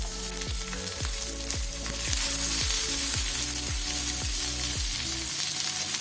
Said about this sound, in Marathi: आता यामध्ये आपण हा 1 कांदा घालायचा